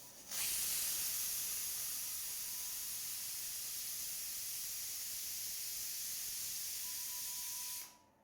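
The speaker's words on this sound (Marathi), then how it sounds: "कुकरच्या 3 शिट्ट्या ह्या काढून घ्यायच्या आहेत।" A loud, steady jet of steam hisses from a pressure cooker whistle for several seconds, then cuts off abruptly.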